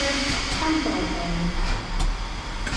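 A train rumbles steadily at a station platform, a close, loud broadband roar with hissing and faint creaks throughout and no voices.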